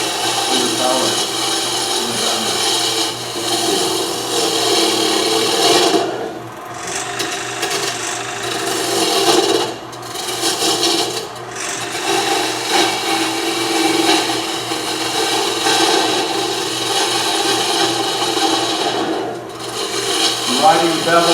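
A bowl gouge shears wood on a lathe for a natural-edge winged bowl, riding the bevel with its wing. The cut makes a steady, loud rasping scrape with brief dips and surges as the tool skips over the gaps in the wing's edge.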